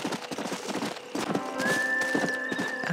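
Rhythmic hoofbeats clip-clop beneath a horse's neigh in the video game Red Dead Redemption, with a sustained tone of game music rising in the background.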